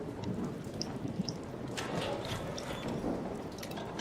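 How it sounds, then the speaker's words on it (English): Steady storm rain in a horror video game hisses evenly throughout, with scattered drips and faint clicks and no clear thunder crack. "I love the storm weather. It's very intense."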